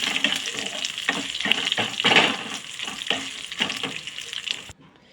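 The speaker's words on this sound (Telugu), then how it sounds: "జీలకర్ర ఎండుమిర్చి అన్నీ వేసేసి కాస్త ఫ్రై చేసుకుందాం" Steady crackling sizzle of cumin seeds and dried red chilies frying in hot oil, close up, with a few sharper pops and stirring noises, no voices.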